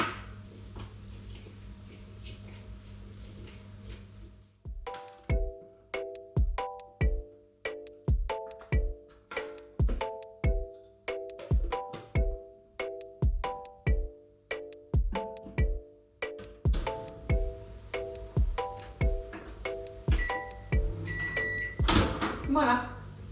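A microwave oven set to 750 watts runs with a steady hum, then a long series of regular loud beeps sounds at roughly one-second intervals, ending as the door noises and handling return.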